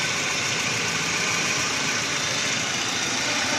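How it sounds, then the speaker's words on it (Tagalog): Car engine idling with its radiator fan spinning after an overheating repair with new radiator and thermostat, a steady broadband rumble and whoosh close by, no talking. "Gumagana yung panya. Gumagana na yung panya."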